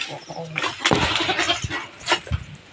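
Goats bleating close by, including young kids, several short calls overlapping with a person talking and rustling around them.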